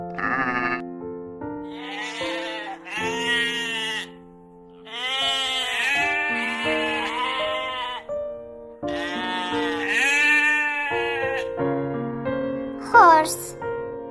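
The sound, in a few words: sheep bleating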